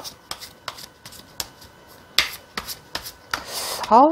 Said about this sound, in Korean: 조언 카드, 추가 카드를 뽑고 설명을 드리도록 할게요